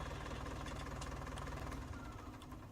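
Truck engine idling in Farming Simulator 19, a steady low mechanical rumble with light knocking texture, close and even throughout, no voices.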